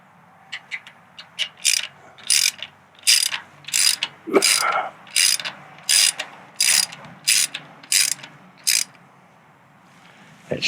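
A hand ratchet snugs bolts on a 2024 Harley-Davidson Road Glide during a Screamin' Eagle install, clicking in about a dozen short, crisp bursts at an even rhythm, close up and quiet between strokes.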